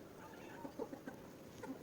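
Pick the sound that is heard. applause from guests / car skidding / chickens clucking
chickens clucking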